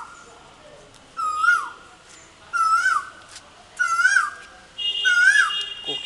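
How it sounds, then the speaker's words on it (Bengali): An Asian koel calls four times near a garden of hibiscus plants, each clear rising whistled note repeating at a steady pace of roughly one call every second or so, loud against a quiet background. "কোকিলও ডাকছে"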